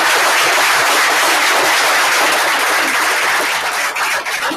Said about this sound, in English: let's give Jennifer a huge round of applause for being up there on stage.